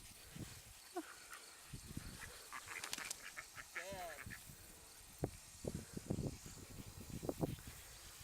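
Several ducks being herded by a dog quack and honk close by and overlap in a noisy chorus, with a person talking over them.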